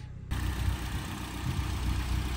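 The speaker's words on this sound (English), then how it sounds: "It's idling better now." A 9th-generation Honda Civic Si engine idles at close range, a steady low rumble that stays even throughout with no voices over it.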